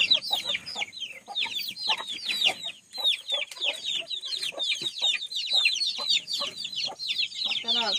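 Chickens and a rooster in a backyard henhouse at bedtime, a busy chorus of close, rapid clucks and squawks overlapping without pause, some calls louder and nearer, with faint talk in the background.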